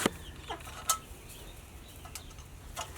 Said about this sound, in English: So we got some chickens now.